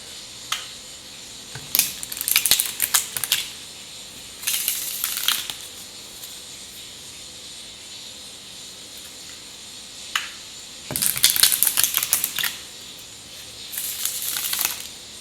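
Bursts of crisp riffling and rapid flutter as cards are shuffled, in several short runs separated by quiet pauses, close up with no talking.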